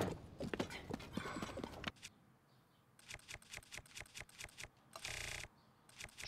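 Horse hooves clip-clop in quick rhythmic bursts in The Legend of Zelda: Tears of the Kingdom, pausing briefly, then a rapid run of hoofbeats and a short rushing noise; sounds synthetic and close.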